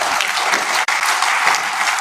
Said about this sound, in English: leave a big hand clap to all of our delegations